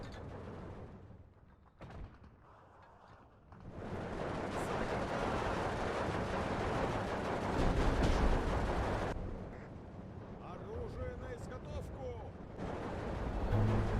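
Big incoming artillery shells in the Steel Division 2 war game strike with a heavy roaring rumble that swells, sustains for several seconds and then fades. A person talks over part of it.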